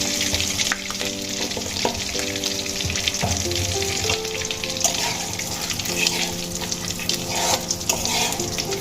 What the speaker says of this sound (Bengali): আমি মাছ ভেজে নেওয়া তেলের মধ্যেই দিয়ে দেব সামান্য কালো জিরে